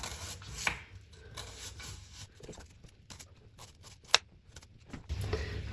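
A knife cutting onions on a board, irregular close chopping taps and slicing strokes with one sharp knock, fairly quiet overall.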